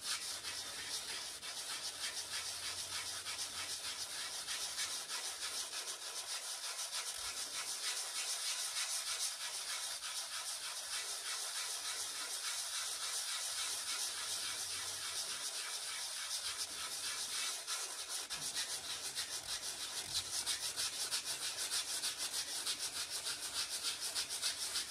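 Steady hissing rub of sandpaper on a styrofoam panther sculpture, continuous and close, with a rhythmic swish of strokes underneath throughout.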